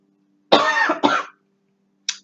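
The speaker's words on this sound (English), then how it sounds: "Sorry. Still coughing." Two close, harsh coughs in quick succession, followed after a pause by a brief, fainter third sound, with a low steady hum underneath.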